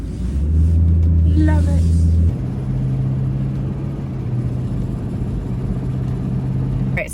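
A pickup truck in 4-wheel drive rumbles with a steady low engine drone and constant road noise, close and loud, while a person speaks briefly early on.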